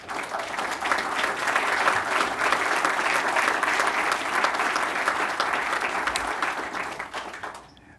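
A room of town meeting attendees applauds a retiring public works employee after 36 years of service, a full, steady burst of clapping lasting several seconds before tapering off at the end.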